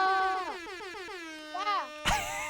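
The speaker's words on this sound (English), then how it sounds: "The air horn." An air horn blasts in a rapid series of short stuttering toots with a sliding pitch, like the club-style horn effect, followed by a longer wavering honk and a sharp final burst; close and loud.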